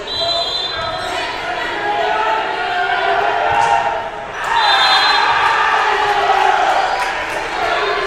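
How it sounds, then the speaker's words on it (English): A rowdy crowd cheers and roars through a college women's volleyball match between Tabor and York, a broad sustained swell of voices in a gym that dips briefly and then rises again, with an announcer's voice in the mix. "Our rowdy crowd over there cheers that one."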